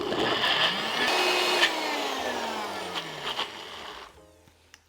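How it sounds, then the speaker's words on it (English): A blender whirs steadily as it purees cocoa powder and dates into a vegan pumpkin spice chocolate brownie batter, loud and close, with the motor pitch sliding down before it winds off near the end. "we're just going to blend this until it's really super silky and smooth"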